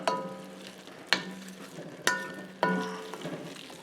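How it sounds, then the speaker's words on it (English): Garlic stirred into a pot of vegan cauliflower soup: a few sharp metallic utensil knocks against the pan, each followed by a ringing tone, over a soft simmering sizzle, with no voices. "And we'll get that stirred in."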